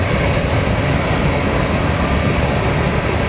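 A westbound BNSF grain train led by a C44-9W diesel locomotive rolls past in Spokane Valley, giving a steady, loud rumble of engine and rolling cars with no breaks and no talk.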